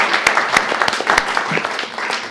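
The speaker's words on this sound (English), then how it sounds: "We can give them a round of applause." Audience applause at a mock trial event, a dense wash of many hands clapping steadily across the whole stretch, fairly loud and close.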